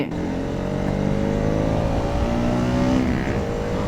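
A Bajaj Pulsar RS200 motorcycle engine holds a loud, steady drone with rising and falling pitch as it revs and runs at speed, close and continuous with no talking.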